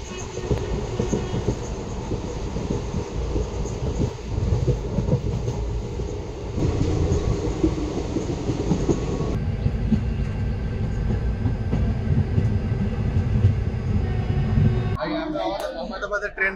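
A train rumbles and clatters at Ahmedabad railway station, a loud, continuous rolling noise with wheel and carriage sounds under nearby voices, ending with a short burst of different noise.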